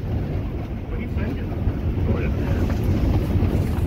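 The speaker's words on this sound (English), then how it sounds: "That's how windy it is here today" Strong wind roars steadily around an ice shack, a loud, low, constant rumble of gusts buffeting the microphone with no pauses.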